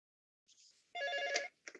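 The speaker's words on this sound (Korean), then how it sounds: "자꾸 전화가 옵니다." A telephone rings while a class is going on, giving a short electronic burst followed by a sustained tonal trill. It is faint and sounds somewhat distant, and it is heard alone with no talking over it.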